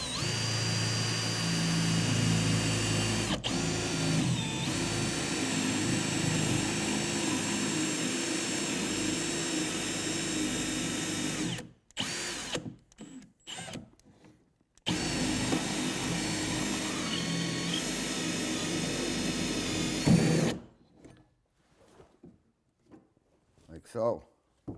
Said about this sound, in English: So that's where I'm going to drill it right there.